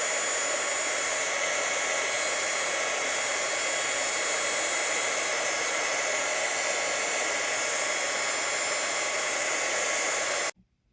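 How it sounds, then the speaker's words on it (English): A heat gun blows a steady, loud broadband roar while shrinking heat shrink tubing over a solder joint on a lighting build for an AMT 1701-D model kit, running continuously for about ten seconds before cutting off abruptly. "Move the heat shrink over our solder. And a quick shot with the heat gun."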